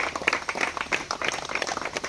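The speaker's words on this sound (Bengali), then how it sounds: "জোরে জোরে ক্লাপিং করে।" A crowd claps hard and fast at an indoor gathering, a dense, steady patter of many hands filling a short burst with no pause.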